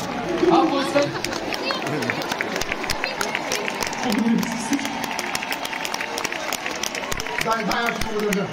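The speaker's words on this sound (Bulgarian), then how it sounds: "Михаела! Аплодисменти!" A large stadium crowd claps and cheers at a live televised show, a dense, steady wash of noise running under a loud announcer's voice.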